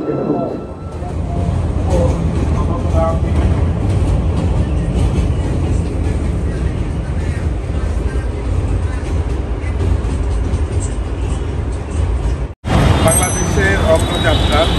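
A metro rail train at a station in Bangladesh gives off a continuous low rumble and hum close by. A brief cutoff comes near the end before the noise picks up again, and talking carries over the rumble.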